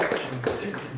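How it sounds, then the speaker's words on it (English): An audience claps at an LGBT Center event while the founder and executive director stands before them, giving a short burst of dense applause with a few louder individual claps. "okay, thank you for the applause."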